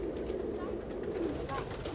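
Pigeons coo softly in a rooftop coop in New York City, low rolling calls over a steady background hum.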